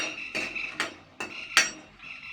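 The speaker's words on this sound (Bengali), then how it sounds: "তো একটু হালকা নাড়াচাড়া করে নেবো।" A spoon scrapes and clinks against a dry pan as peanuts roasting without oil are stirred for coconut chutney, giving a few sharp, separate metallic knocks and rattles close by.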